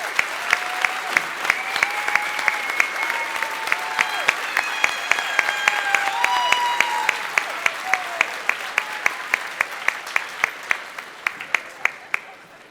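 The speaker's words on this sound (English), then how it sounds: "let's give them a round of applause to express our great appreciation for the role they played." Applause at a university commencement ceremony honoring faculty and staff, steady crowd clapping with sharp individual claps close by, while a few voices murmur beneath it throughout.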